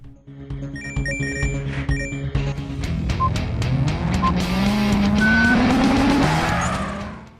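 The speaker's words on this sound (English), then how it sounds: "Drift Mania is all about drifting, funnily enough." Engine note climbing steadily while tires squeal and skid as a car drifts through corners in the mobile racing game Drift Mania, loud and continuous with layered game effects.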